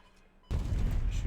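A burst of gunfire goes off in the WWII card game KARDS, a sudden loud crackling volley kicking in partway through after a quiet start.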